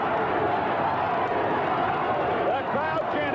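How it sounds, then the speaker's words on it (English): A dense wrestling-arena crowd roaring and chanting the name Harley in unison, loud and continuous, with an announcer talking over it. "The crowd chanting, Harley, Harley."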